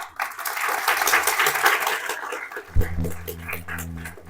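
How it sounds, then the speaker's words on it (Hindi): A room full of schoolchildren at a morning assembly applauds with brisk, scattered clapping for a few seconds before it thins out and an adult voice begins speaking. "तालियां बजाओ जिन्होंने सच बोला।"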